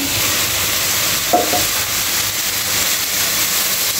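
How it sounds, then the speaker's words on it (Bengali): Fried mola fish go into a pan of spiced vegetables, setting off a loud, continuous sizzle and hiss, with a brief tonal scrape partway through. "এখন আমি ভেজে রাখা মলা মাছগুলো দিয়ে দেবো।"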